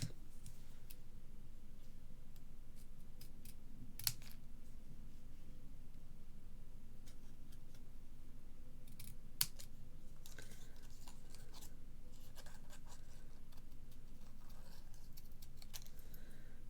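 A paper leaf and flower are trimmed off a handmade card with scissors: faint, sparse snips and small paper rustles over a quiet room hum, close by, with no talk.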